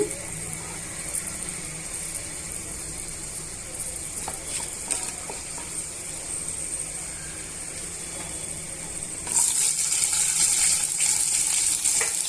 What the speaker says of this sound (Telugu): ఇవన్నీ బాగా పచ్చివాసన పోయేంత వరకు వేయించుకోండి